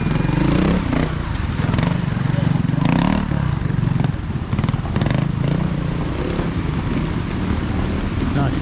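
A trials motorcycle rides a club championship course on a farm, its engine revving and burbling steadily close by with wind noise, while a commentator talks over it.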